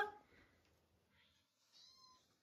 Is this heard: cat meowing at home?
yes